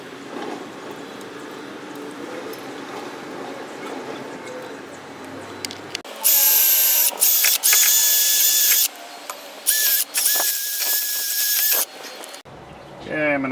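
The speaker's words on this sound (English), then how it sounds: "then we'll clean that surface up with our wire wheel here" A wire wheel grinds against a rear brake bracket on a Chrysler 200, loud harsh whirring bursts starting and stopping in several spurts, after a stretch of quieter workshop rustling.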